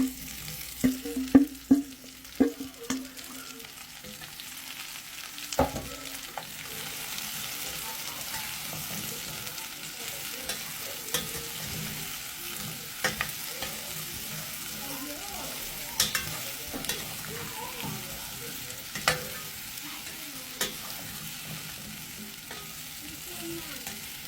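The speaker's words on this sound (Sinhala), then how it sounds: "අපි දැන් චෙස්නට් එකතු කරගන්නවා. මම මේකට ගොරකත් එකතු කරගෙන තියෙන්නේ." Chestnuts stir-fried with goraka in an oiled pan give a soft, steady sizzle, broken by occasional scraping and clinking of a spoon against the pan.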